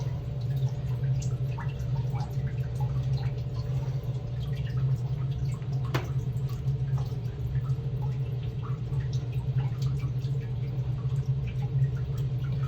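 Pulp water draining from a leaf casting mould, a faint continuous trickle with scattered drips over a steady low background hum, alone without talk.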